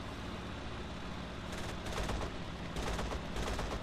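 Aircraft machine guns rattle in rapid bursts over a constant droning engine in IL-2 1946 combat over Stalingrad, with several short chattering volleys in the latter half riding on the steady roar.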